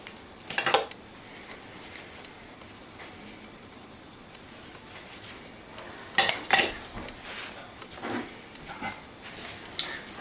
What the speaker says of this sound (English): Put it right onto your carrots. Stir it around a little bit.